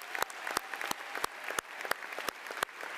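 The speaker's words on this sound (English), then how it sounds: "So give all of yourselves another round of applause." Graduates at a high school commencement clap in a sustained round of applause, with dense crowd clapping and sharp, close individual claps cracking out at a steady rhythm.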